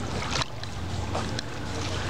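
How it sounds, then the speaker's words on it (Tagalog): Strong wind roars steadily and loudly across the microphone at Hennan Pools, with a few brief gusty bursts in a constant rushing noise. "Oh, grabe yung hangin ni Magawas."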